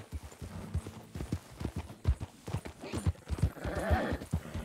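Horse hooves clip-clop at a steady, brisk rhythm in the video game Red Dead Redemption 2, close and even, with a faint whinny-like sound partway through.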